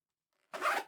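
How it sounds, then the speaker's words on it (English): A side zipper on a shoe is drawn once, giving a short, close, raspy zip after a moment of silence, with no talking. "It zips on the side."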